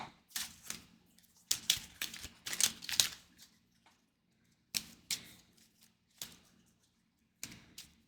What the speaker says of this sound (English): And then these cards get shuffled into the deck.